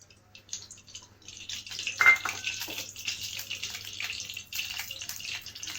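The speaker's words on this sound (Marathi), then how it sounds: "आता कढई गरम झालेली आहे मी याच्यामध्ये टाकते आहे चार ते पाच चमच तेल" Four to five spoons of oil pour into a hot kadhai, giving a soft, hissing liquid splash that rises and settles into a steady trickling sizzle.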